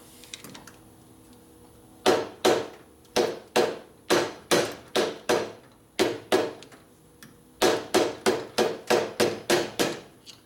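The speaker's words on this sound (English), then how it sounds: "And hit it with a hammer." A hammer strikes a tool wedged against the cam cover of a 1957 Harley-Davidson panhead engine, about seventeen sharp, evenly spaced metallic blows in two runs with a short pause between, close and loud.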